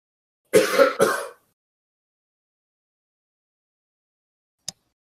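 Two quick throat clears or coughs close together, loud and near, followed by a long silence and a faint tiny click near the end.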